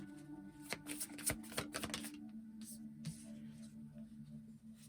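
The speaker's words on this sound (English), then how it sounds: "Can we get 2 more cards, Spirit?" Tarot cards are shuffled and drawn in a quick burst of crisp riffling slaps over a low background hum, then taper off into quieter handling.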